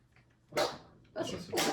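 Sneezing close by, a short snuffling breath followed by two sharp, breathy bursts in quick succession, with no talk over them.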